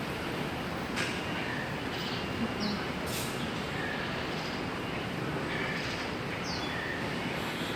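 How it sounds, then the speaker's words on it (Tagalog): An elevated MRT train runs past outdoors with a steady, even rumble for several seconds, while birds chirp faintly and intermittently over it. "Ito yung sa taas train, ano na yun? MRT kasi yan."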